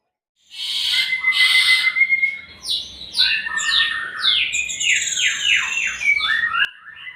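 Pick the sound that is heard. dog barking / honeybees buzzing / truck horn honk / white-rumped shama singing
white-rumped shama singing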